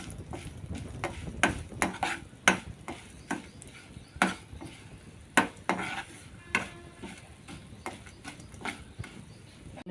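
Chana dal stirred in butter in a pan for ginger pickle, with repeated sharp clinks and scrapes of a spoon against the pan in an uneven rhythm over a faint background.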